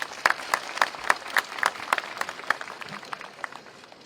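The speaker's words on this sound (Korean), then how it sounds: "사회학과 학생회장 김민찬 학우님 박수로 모시도록" A crowd of university students at an outdoor protest rally gives a sparse round of clapping, individual claps distinct and rhythmic, fairly close and steady, tapering slightly toward the end.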